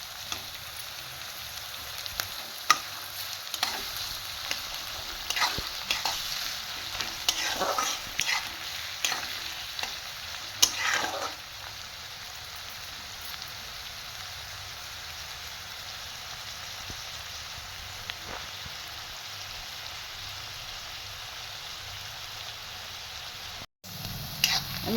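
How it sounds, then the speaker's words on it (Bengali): Onions frying in a pan for a restaurant-style methi chicken, a steady close sizzle with occasional stirring scrapes and clicks, no talking. "পেঁয়াজটা আমি খুব লাল করে ভাজবো না।"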